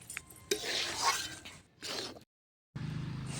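A spatula clinks and scrapes against a cooking pan while taro leaves (kochu shaag) are stirred, in short irregular bursts broken by a brief pause.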